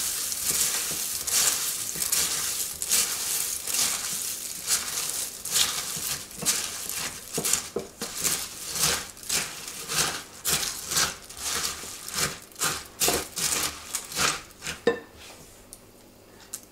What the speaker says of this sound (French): Et les cornflakes. Et on mélange.